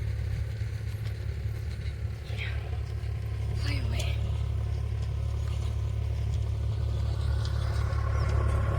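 A steady low engine drone from a car on the move, continuous and fairly loud throughout, with faint murmuring in the cabin.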